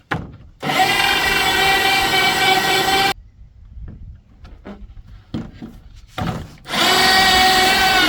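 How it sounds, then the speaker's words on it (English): A hole saw bores through wood house sheathing from the back side. The motor whines loud and close in two long runs, with quiet clicks and handling noises in the pause between them. "Now I'll drill from the back side so I don't splinter it all out."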